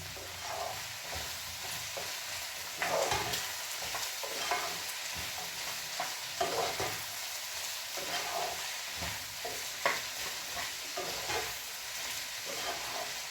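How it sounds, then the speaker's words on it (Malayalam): Vegetables for an Indo-Chinese stir-fry hiss in a hot pan as they are tossed and stirred, with repeated soft scraping strokes over a steady, moderately quiet sizzle. "ഇനി അതെല്ലാം കൂടി ഒന്ന് നന്നായിട്ട് ഇളക്കുക"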